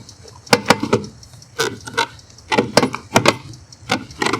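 Saddlebag dropping into place on a Harley-Davidson Dyna Fat Bob, a series of sharp metallic clicks, clunks and rattles in quick irregular bursts, close and fairly loud, with no talking.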